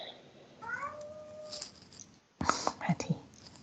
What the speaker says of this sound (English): With the cat meow.